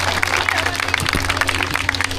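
Crowd applause at a Sant Kabir Bhawan inauguration event in a Haryana village, a steady dense patter of many hands over a constant low hum from a sound system, moderately loud.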